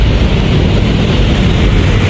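A loud, steady roar of a light rail train rumbling past up close near the National Museum in Manila, broadband and continuous with no voices.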